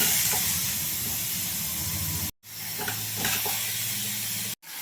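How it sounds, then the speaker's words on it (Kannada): Tomatoes fry with onion and green chillies for tomato chutney, giving a loud, broad hiss of sizzling oil that cuts out twice, briefly. "ಈಗೆಲ್ಲ ಟೊಮೊಟೊ ಚೆನ್ನಾಗಿ ಸ್ಮ್ಯಾಶ್ ಆಗೋ ತನಕ ಡೀಪ್ ಫ್ರೈ ಮಾಡ್ಕೋಬೇಕು"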